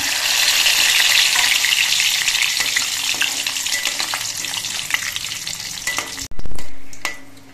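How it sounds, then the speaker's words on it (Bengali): Cashew nuts sizzle and crackle steadily as they fry in hot oil in a kadai, a dense continuous frying hiss lasting several seconds before a brief clatter and a louder burst near the end, no talking. "কিছু কাজু বাদাম ভেজে নিচ্ছি।"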